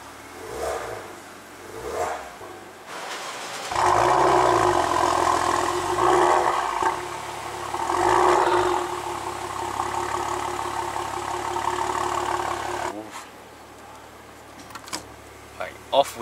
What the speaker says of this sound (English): Let's see how it revs from in the car.